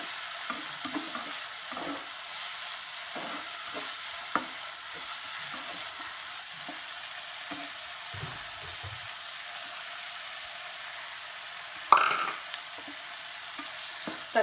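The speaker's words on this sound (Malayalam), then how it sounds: "ഉള്ളി ഒന്ന് വഴന്നു വരുമ്പോൾ ഇതിലേക്ക് നമ്മൾ കട്ട് ചെയ്ത് വെച്ചിട്ടുള്ള തക്കാളി ഇട്ട്" Chopped tomato goes into sautéed onion in a pan, producing a soft, continuous low sizzle with repeated scraping stirs and a sharper clank near the end.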